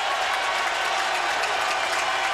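A stadium crowd at a 1999 Clemson vs Virginia college football game roars and cheers in a steady, dense wash of noise that holds at full level throughout.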